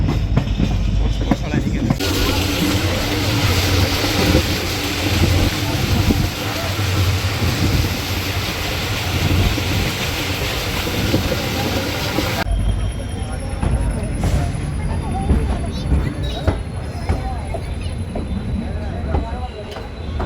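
The 14526 Shri Ganga Nagar–Ambala Cantt Intercity Express pulls out of Malout railway station, a loud, close roar of rolling wheels and rattling coaches that drops away after several seconds to quieter rail clatter with faint high squeals.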